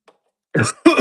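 Two sharp, close coughs in quick succession from a man choking after swallowing water down the wrong pipe, preceded by a brief faint sound and near silence.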